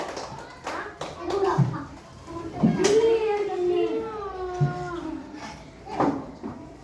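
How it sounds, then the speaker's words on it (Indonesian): Children in a classroom clapping for a group, scattered bursts of hand claps under a teacher's voice and children's chatter. "Tepuk tangan untuk kelompok 4."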